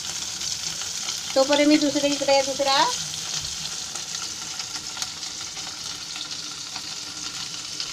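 Black pomfret coated in rava sizzles and fries in a pan over lowered heat, a steady crackle beneath brief talk, with a short hum of speech partway through.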